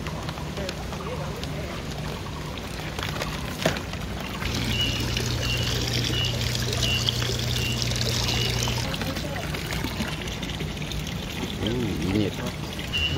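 Hot spring water at Beitou Thermal Valley in Taiwan flows and pours steadily outdoors, a continuous watery rush that swells in the middle, with voices talking over it.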